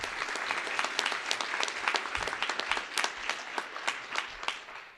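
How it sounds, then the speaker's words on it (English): An audience at an award ceremony gives continuous, dense applause, with many hands clapping steadily at full volume from start to finish. "so give them a round of applause."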